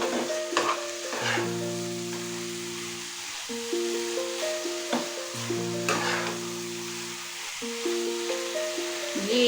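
Poppy seed paste simmering with a little water for a Bengali ridge gourd and potato dish, stirred in the pan with steady bubbling and repeated scraping strokes, close and moderately loud, no talk.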